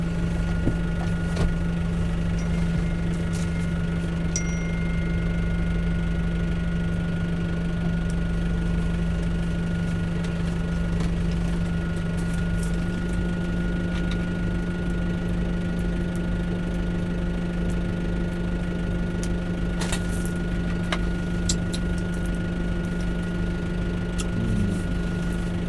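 A tractor engine runs at a steady idle for the whole stretch, a continuous low droning hum with vibration and some intermittent clicks and rattles, close and unbroken.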